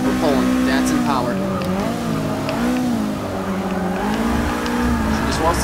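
Datsun drifting in the Forza 6 racing game, its engine droning loud and steady with rising and falling revs and tire squeal throughout, under someone talking over it.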